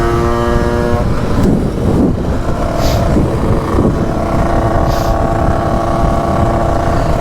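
A Derbi/Sherco motorcycle runs with a steady droning engine while its gearbox clunks loudly during shifts, giving a few sharp knocks over the continuous engine note, with wind buffeting throughout.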